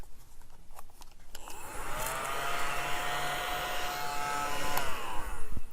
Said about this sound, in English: That's my little ladybug vacuum.